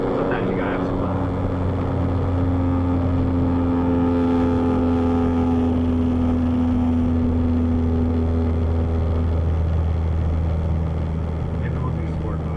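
A Ford Focus RS fitted with an XClutch, driving with a loud, steady engine drone and low harmonic tones that shift slightly as it switches into sport mode, with voices talking over it.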